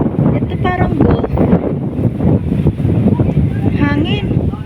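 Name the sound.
wind blowing at Clear Water Bay Park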